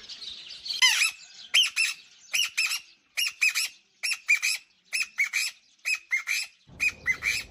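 A tame bamboo partridge calls at close range: a long series of loud, harsh, rhythmic squawking bursts, evenly spaced, with a rustle at the end.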